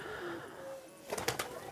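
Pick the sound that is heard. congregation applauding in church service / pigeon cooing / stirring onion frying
pigeon cooing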